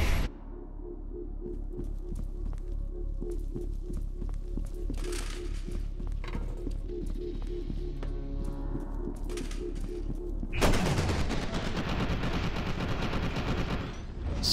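Gunfire in FEAR 2 inside an abandoned lab: sharp repeated shots and bursts over a droning ambient hum, ending in a loud sustained crash of dense noise.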